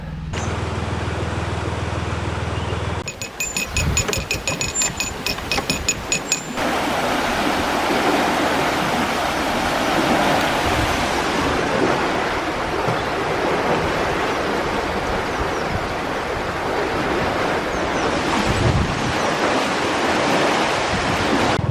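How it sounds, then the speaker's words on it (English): Water pours out of a full canal lock in a loud, continuous roaring rush, heard close and steady; a brief mechanical clatter cuts in near the start, and no one speaks. "You can see the lock is full, there's water coming out."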